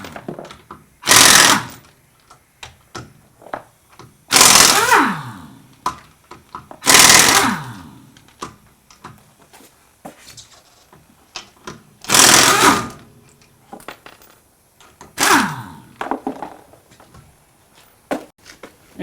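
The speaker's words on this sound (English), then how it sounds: "now you can get the air wrench and remove the tire." An air wrench removes the wheel from a jacked-up car in five loud rattling bursts, each lasting about a second, separated by pauses with faint clicks and handling noises.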